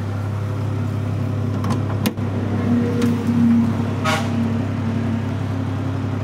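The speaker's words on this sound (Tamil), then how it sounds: "வண்டி இப்போ ஸ்டார்டிங்கில் இருக்குங்கண்ணா." Omni van engine idling steadily at close range, a continuous low hum with a brief horn-like tone and some faint background noises over it.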